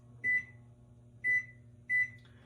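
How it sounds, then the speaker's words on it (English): Three short, bright electronic beeps from a microwave's kitchen timer as its keypad is pressed to set 30 minutes, evenly spaced about a second apart, close and clear over a faint room hum. "Where's the timer? Kitchen timer. 30 minutes."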